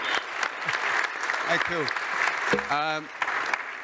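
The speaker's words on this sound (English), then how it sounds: "Big round of applause for the team, please." An audience at a science-to-policy ministerial forum applauds the team, a steady wash of clapping under brief spoken thanks and a few short voices and tonal sounds near the end.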